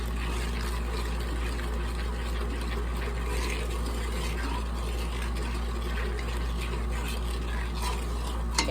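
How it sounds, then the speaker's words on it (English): Raspberry syrup with about a teaspoon and a half of vanilla being stirred in a pot on the stove, a steady bubbling simmer and soft scraping heard close, continuous with no talking. "So we'll keep stirring and we'll be back when that's ready."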